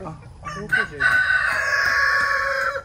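Backyard chickens at feeding time, with a rooster giving one long, loud crow that carries most of the way through, preceded by a few short clucks and calls.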